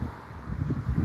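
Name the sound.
wind blowing into the microphone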